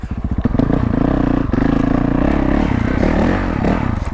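Honda CRF450L motorcycle with stock exhaust and factory gearing, its single-cylinder engine loud and close, thumping rapidly then holding a steady revving drone with small throttle changes.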